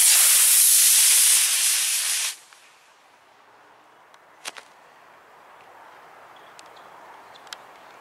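A model rocket motor fires on a slightly windy Hawaiian morning, giving a loud, roaring hiss that holds for about two seconds and then cuts off sharply, leaving quiet wind with a few faint clicks.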